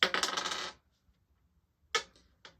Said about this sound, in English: So I will roll only 1 dice and see what I get.